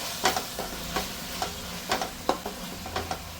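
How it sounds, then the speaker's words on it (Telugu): Fenugreek leaves fry in a pan, giving a steady soft sizzle with repeated scraping stir strokes at an uneven rhythm, close and moderately quiet, with no voices. "ఒకసారి ఈ మెంతికూరను కూడా మంచిగా ఫ్రై చేసుకోవాలన్నమాట"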